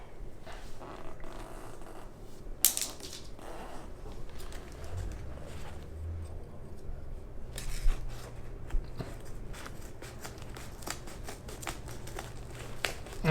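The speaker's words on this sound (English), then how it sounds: "you can trim it with scissors" Scissors trimming heat insulation snip repeatedly through the soft material in irregular bursts, with a few sharp crunchy cuts between quieter rustling, close and fairly faint.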